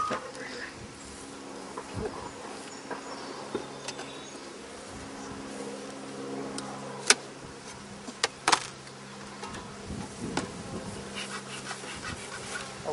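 Honey bees buzz in an open beehive during summer hive inspection, a constant droning hum close by with individual bees passing, under intermittent quiet talk and occasional clicks and knocks of hive equipment.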